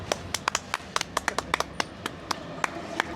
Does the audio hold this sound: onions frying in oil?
no